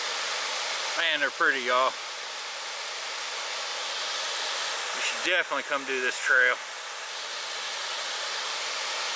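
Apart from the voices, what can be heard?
Middle Falls waterfall, Burgess Falls State Park, Tennessee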